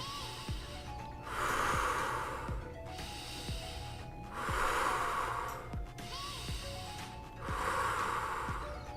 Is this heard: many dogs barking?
no